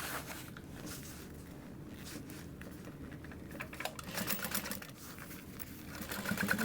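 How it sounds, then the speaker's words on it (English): A sewing machine top stitching through the exterior fabric of a Tracy wristlet, running in a steady close whir with a fast needle rhythm that speeds up and slows slightly, no voices present. "we're only going to be top stitching through our exterior from end to end"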